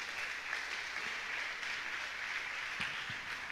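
A church congregation applauds together, steady broadband clapping sustained throughout at moderate loudness, with no voices over it.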